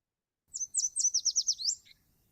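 A songbird sings one short, high, clear phrase: a couple of opening notes followed by a fast run of repeated slurred notes and a brief ending, heard alone against quiet background.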